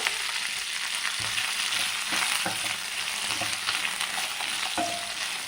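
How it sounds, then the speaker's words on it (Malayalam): Sliced okra frying in hot coconut oil in a pan, a steady loud sizzle with occasional stirring clatters throughout, no talking. "ആ ചൂടായ വെളിച്ചെണ്ണയിലേക്ക് നമുക്ക് മുറിച്ച് വെച്ച വെണ്ടക്ക ഒന്ന് ഇട്ട് കൊടുക്കാം"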